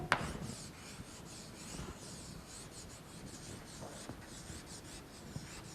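Chalk or marker scratches and rubs against a classroom board in short irregular strokes, fairly close and moderate in level, with no talk.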